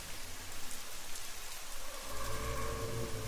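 Steady rain falling, a dense continuous hiss with a low rumble building in partway through; no voices.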